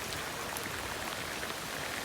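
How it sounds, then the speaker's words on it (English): Heavy rain pours down in a dense, steady hiss with no pauses or voices. "Raining pretty good. Call it pouring, not fat drops, but skinny drops."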